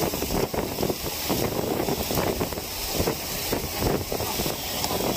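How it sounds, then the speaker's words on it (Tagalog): Heavy typhoon wind buffets the microphone with a constant roaring rush, mixed with the hiss of rain and water, loud and unbroken throughout. "Lakas ng ulan, lakas ng hangin."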